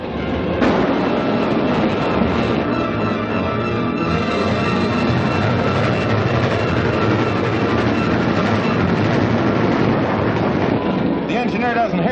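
A moving train in a 1948 film serial, a steady loud rumble and wind-like roar of rolling wagons filling the whole stretch, with dramatic voices speaking over it.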